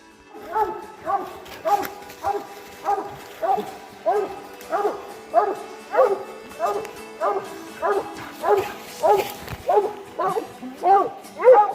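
Coonhounds bay at a raccoon treed at night in the woods, giving a steady run of about twenty loud, evenly spaced barks at moderate distance with a faint background hiss.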